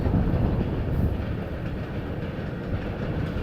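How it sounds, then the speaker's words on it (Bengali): A train rumbles past at a distance across rural farmland in Kazakhstan, a steady low roar with faint rhythmic rail clatter running throughout. "দেখতে পাচ্ছেন এখানে ট্রেন যাচ্ছে"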